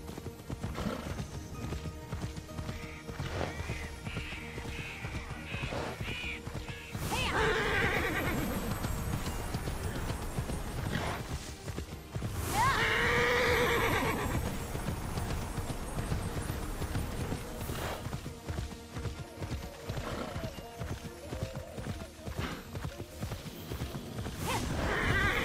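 Horse in the Fenyx video game, continuous rhythmic clip-clop of hooves galloping close by, punctuated by two loud whinnies midway, over a busy game background.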